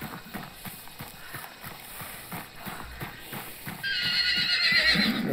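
A horse in the video game Hunt: Showdown, with hooves clip-clopping steadily nearby and then a loud, shrill neigh rising near the end.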